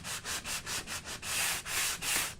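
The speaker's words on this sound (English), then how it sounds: "So I can sand this down" Close sanding across a shiny wooden fence surface, a run of short rhythmic rubbing strokes that merge into longer, steadier passes near the end, with no voices.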